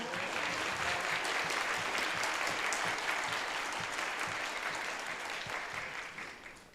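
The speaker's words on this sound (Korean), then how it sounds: "여러분 큰 박수로 환영해 주시기 바라겠습니다" Audience applause welcoming guests at a youth talk concert on regional policy, a steady dense wash of many hands clapping throughout, holding strong before easing slightly at the end.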